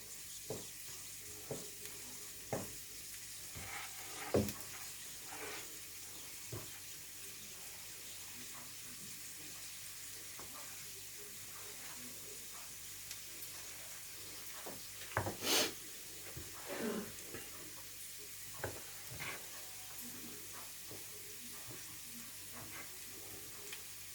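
Chicken mortadella and onion are stirred in a frying pan, a soft, low sizzle running under scattered scrapes and taps of a utensil against the pan, with a few clearer clinks partway through.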